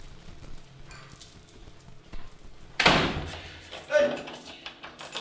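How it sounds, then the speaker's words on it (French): A door shut firmly in a home, giving a sharp loud thud followed by a second bump, with quiet talk and movement around it. "Pourquoi tu fermes la porte?"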